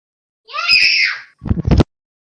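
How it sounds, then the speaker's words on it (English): A young child lets out a loud, close, high-pitched scream indoors during a tabletop role-playing game session, followed by a short burst of rough vocal noise. "I was not expecting him to scream because his sisters are in the kitchen."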